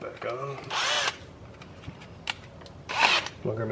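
A power drill pre-drills holes for self-drilling screws during a car engine swap in a driveway, with two short whirring bursts and a voice talking between them.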